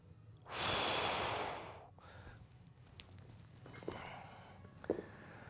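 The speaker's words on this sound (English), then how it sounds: "inhale, exhale, and then inhale," A person on a flat bench breathing during a breathing exercise, with one long, loud, close breathy exhale followed by quieter, fainter breaths and small movement sounds.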